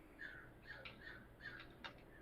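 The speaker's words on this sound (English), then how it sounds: "Loud birds." Birds outdoors call in a series of short, repeated squawks spread across a couple of seconds, heard faintly from a distance against a low background hum.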